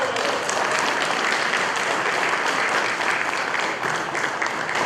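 Sustained applause from a seated audience at a regional award ceremony honoring community service, a dense, even wash of clapping that stays loud and steady throughout.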